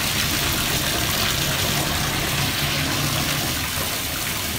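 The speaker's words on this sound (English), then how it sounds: "now let's turn on our water" Tap water running at full flow, a loud continuous hiss and rush of water filling a tub or sink, steady throughout with no speech.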